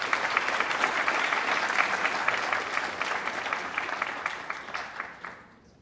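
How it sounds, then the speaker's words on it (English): A conference audience at Monitorama 2022 claps in dense, sustained applause for about five seconds before it quickly fades away, with no talk over it. "One round of applause."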